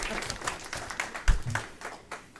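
An audience at a school board meeting gives brief, scattered clapping, fairly quiet and sparse, with faint room murmur around it.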